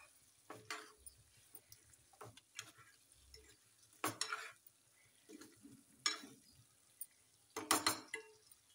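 Eggs added to a sizzling egg masala in a pan and stirred, with scattered sharp spoon scrapes and clinks against the pan over a faint frying hiss, in irregular bursts.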